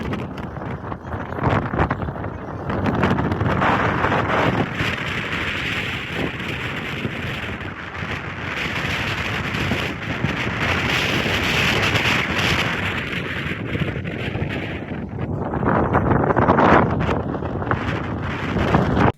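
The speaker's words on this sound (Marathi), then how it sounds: "बघितलं वाऱ्याचा आवाज किती होतो" Strong, continuous wind on a hilltop at a hill station near Kolhapur roars and buffets against the microphone, gusting louder near the end with no voices present.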